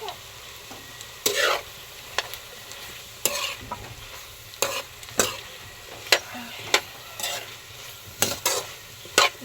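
Food fries in a pan with oyster sauce, and a utensil stirs it in repeated scraping strokes over a steady sizzle.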